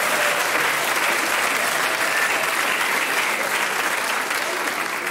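Steady, dense audience applause carries on without a break for about five seconds, loud and close, at a comedy Christmas stage show.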